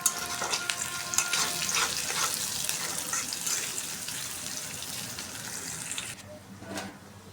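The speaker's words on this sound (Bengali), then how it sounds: "আলু কাটা হয়ে গেছে, এখন দিয়ে নিতেছি, ভাজি করে নেব" Cut potatoes frying in a pan while biryani is being cooked, giving a steady close sizzle that runs unbroken for about six seconds and then drops away into quieter kitchen noise.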